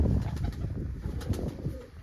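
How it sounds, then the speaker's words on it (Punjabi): A pigeon coos softly in low, repeated throaty notes close by, with faint rustling in the background. "ਕਬੂਤਰ ਦਿਖਾਤਾ ਤੁਹਾਨੂੰ"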